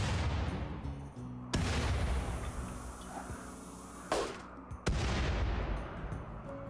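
Gunfire and grenade blasts in the video game Rimworld, with a few sharp loud cracks and booms at irregular intervals. Each hit trails into a rumbling wash, and no one speaks.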